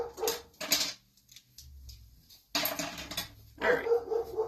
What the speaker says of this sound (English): My dog is losing his mind downstairs.